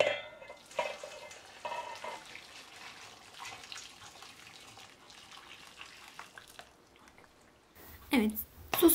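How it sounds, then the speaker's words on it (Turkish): Beets soaked in hot boiled sauce for a sweet restaurant-style German beet pickle are stirred in a bowl. The stirring is soft and wet and runs on at a low level under a voice. "sosumuzu da pancarlarımıza döktükten sonra şöyle bir güzelce karıştırıyoruz"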